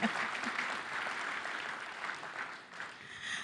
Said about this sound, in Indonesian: Tepuk tangan buat Kadin